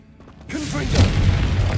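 Blasting fire spell erupting in a Hogwarts Legacy fantasy battle: a sudden loud, close boom hits after a brief quiet moment, then rolls into a sustained rumbling roar with crackling debris and a short tonal voice-like sound layered in.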